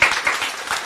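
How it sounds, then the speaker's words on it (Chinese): A lecture audience claps briefly, a short close burst of scattered hand claps lasting under a second. "来，鼓掌一下。"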